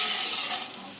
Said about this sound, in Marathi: तीन चार चमचे टाक, ते आपल्याला डिंक आहे ना फ्राय करायचे.